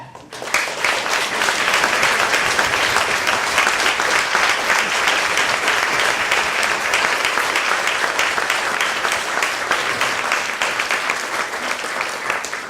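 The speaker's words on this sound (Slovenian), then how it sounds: "mislim, da si zasluži en ogromen aplavz" A bookshop audience at a literary translation talk gives three guests a long, full round of applause, dense and even clapping sustained for over ten seconds.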